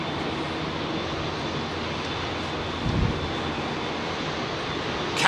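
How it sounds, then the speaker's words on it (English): Airbus A350 XWB jet engines roar steadily at Heathrow, a broad continuous rumble with no talking, ending in a brief sharp swell. "They can really let rip with those XWBs"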